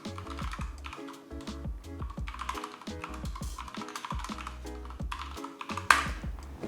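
Up-close typing on a computer keyboard, quick uneven clusters of key clicks with short pauses, ending on a sharp louder keystroke like an Enter press, with no talking.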